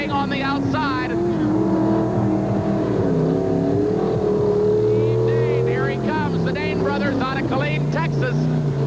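A monster truck engine drones and revs steadily during a stadium lane-choice run at a 1988 TNT Monster Truck Challenge in Atlanta's Fulton County Stadium, heard beneath continuous commentary.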